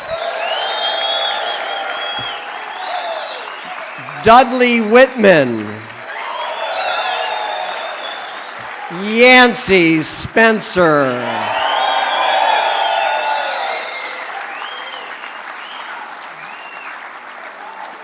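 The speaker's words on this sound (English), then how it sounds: "Let's have hoot, applause, and cheer life, because surfing is celebration" Crowd at the East Coast Surfing Hall of Fame induction ceremony claps steadily throughout, with loud bursts of whoops and cheers swelling twice, while an announcer reads names over the applause.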